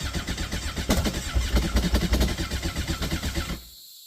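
An old X2 engine, fueled and choked, fires briefly on a start attempt, with a loud, close, rapid pulsing burst of combustion for about three and a half seconds before cutting out abruptly to silence.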